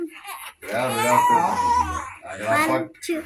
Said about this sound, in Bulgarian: Да, това е бебе.